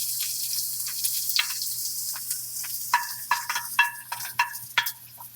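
Chopped shallots, a sliced big onion, ginger, garlic and curry leaves frying in hot oil for a koorka curry: a steady close sizzle that grows into a run of sharp crackling pops near the end, with no talking.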